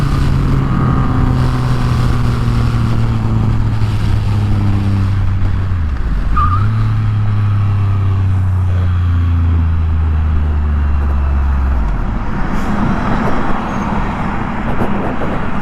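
A Triumph Rocket 2500cc motorcycle being ridden, its engine a loud, steady drone with rising and falling pitch as it speeds up, then a dip and recovery, with strong wind rush throughout.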